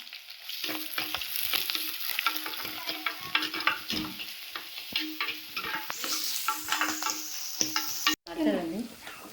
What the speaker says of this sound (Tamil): தேவையான பச்சை மிளகாய் வதக்கும்போது தேவையான வெங்காயம் இது எல்லாத்தையுமே நல்லா போட்டு வதக்கிக்குவோம்